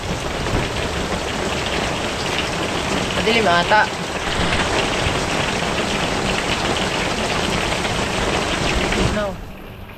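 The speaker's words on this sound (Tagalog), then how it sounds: "Yung lakas ng hangin at ulan." Heavy wind and rain from a typhoon battering a hut, a loud continuous roar of downpour with gusts, a person speaking briefly, and the noise dropping off abruptly near the end.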